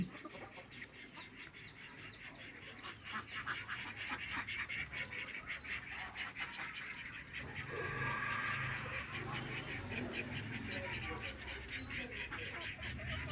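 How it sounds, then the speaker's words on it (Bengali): Ducks on a poultry farm, just fed and heading back into their shed, quack and chatter continuously under a person talking throughout, with a louder stretch of calls partway through. "এই পাশে যে হাঁসগুলোকে রয়েছে এই হাঁসগুলোকে খাবার দিয়ে দিয়েছি"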